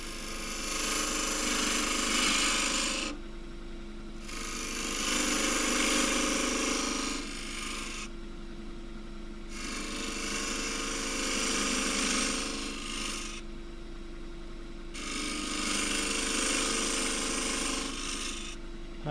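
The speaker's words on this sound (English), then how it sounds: "Pivot the edge into the wood." A gouge cutting into a spinning wood blank on a wood-turning lathe, heard as loud, coarse rasping bursts of two to four seconds each, separated by brief pauses, over a low machine hum.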